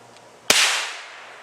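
A hammer strikes a gun to test whether its primer is live, giving a single sharp, loud crack with a short ringing decay in an otherwise quiet setting.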